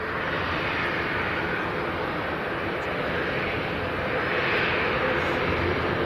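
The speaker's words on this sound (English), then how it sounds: "That is the fastest I've ever seen an aircraft." A jet airliner coming in fast to land at Leeds Bradford Airport, its engine roar a loud, continuous broadband rumble and whine that holds steady throughout, with no talking over it.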